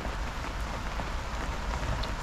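Steady rain falls on an allotment planted with green manure and borage, a dense continuous patter of drops close by with no voices.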